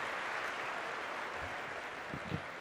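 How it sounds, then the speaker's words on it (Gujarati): An audience at a talk for board exam students gives a dense wash of clapping to welcome a speaker to the podium, a steady, moderately loud applause lasting a couple of seconds. "તાળીઓના નાદથી આપણે એમને વધાવીએ છીએ."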